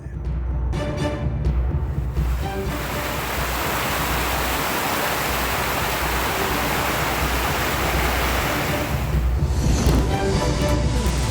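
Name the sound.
heavy water flowing into the historic Magadi lake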